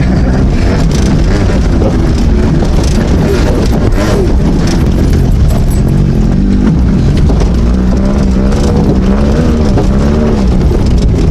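Lifted Honda Civic engine laboring over bumpy terrain at an OHV park, a loud close engine roar that rises and falls with revs, plus rumble and jolts from the rough ground, and no speech.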